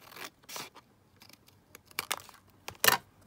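Scissors snip through card stock for a flip-up folio craft project, a series of short close crisp cuts and rustles building to a louder final snip, with no talking.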